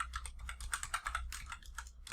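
Steady rapid clatter of keys on a computer keyboard as code is typed for an Eleventy static site, close and continuous with uneven bursts of keystrokes and no voices.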